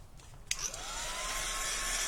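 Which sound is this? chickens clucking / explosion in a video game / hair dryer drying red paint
hair dryer drying red paint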